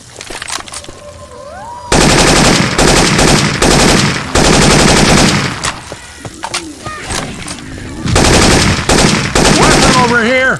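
Rapid bursts of automatic gunfire from weapons in Left 4 Dead 2 with Syphon Filter weapon sounds swapped in, loud and dense in several long volleys separated by brief pauses, with game voices and effects between bursts.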